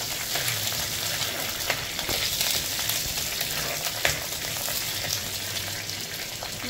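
Fenugreek seeds fry in a pan for Goan white sardine curry, giving a steady close sizzle with faint crackles and occasional small pops throughout.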